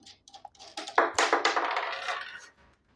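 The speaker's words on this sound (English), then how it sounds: "I'm just going to unscrew this." A speaker terminal knob on a NEOHIPO ET30 amplifier and speaker switcher being unscrewed by hand, heard up close as a quick run of small clicks and metallic rattles lasting a couple of seconds before falling quiet.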